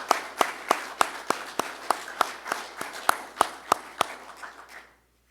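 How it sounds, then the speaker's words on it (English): Sparse clapping from a small gathering at a 2021 promotion ceremony, honoring families and supporters: about twenty distinct, evenly spaced claps over roughly five seconds, fairly close and moderately loud, then fading to silence. "give a round of applause to the family and supporters of each one of you guys and our promotees"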